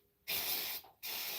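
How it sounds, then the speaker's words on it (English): Two hissing bursts of spray cleaner aimed at the brake rotors of a 2008 Hyundai Veracruz during a brake job, loud and close, separated by a brief pause. "I'm just gonna spray the rotors."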